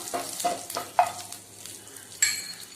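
Green chillies and pepper fry in a pan for moringa rice, with a soft steady sizzle broken by several sharp spatula scrapes and stirring clinks close by.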